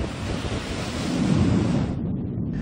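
Strong wind and large waves roll in at a municipal fish landing in Pio Duran, Albay, during a typhoon, a loud, continuous rush of surf and gusting wind buffeting the microphone, swelling midway before easing slightly.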